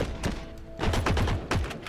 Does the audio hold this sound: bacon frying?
no